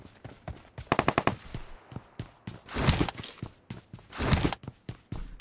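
Rapid gunfire from a shooting video game, with quick bursts of automatic shots and a few louder, broader blasts, heard at moderate volume with no one talking over them.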